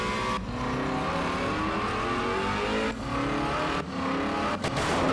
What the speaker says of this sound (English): then we get the Ford Mustang, which I did no upgrades to